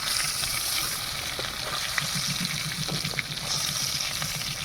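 Prawns fry in a pan for a chingri malai curry, producing a continuous sizzle with faint bubbling and a couple of sharp clicks, fairly quiet and steady.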